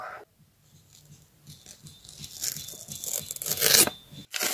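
A paper surprise packet is torn open by hand, with soft rustling and crinkling that grow into louder ripping and crunching paper noises close up, broken by a brief pause near the end.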